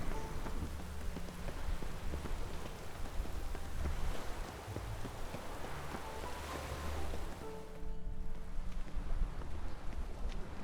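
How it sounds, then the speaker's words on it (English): Heavy rain pours steadily in The Witcher III video game, a dense, loud and continuous outdoor downpour with no voices over it. "It's raining buckets!"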